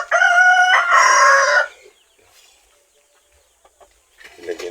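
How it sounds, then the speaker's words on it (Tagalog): Chickens at a backyard poultry pen with laying hens, ducks and Chinese chickens: a loud, near rooster crow dominates the first second and a half, then quiet, and hens begin clucking again close by at the end. "Check naman natin yung ating ilagang manok."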